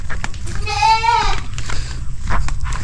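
A single goat gives one clear, wavering bleat at close range on a farm plot, with outdoor rustling and handling noises around it.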